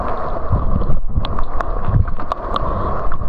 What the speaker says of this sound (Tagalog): Ang lakas ng hangin guys.